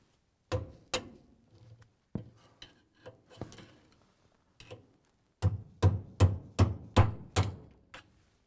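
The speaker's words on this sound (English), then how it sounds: "tap on the back with a flathead screwdriver and a hammer" Sharp metallic taps, a few scattered at first, then a quick steady series of six or seven firm hammer strikes on a flathead screwdriver seating a GE clutch clip onto a shaft, close by.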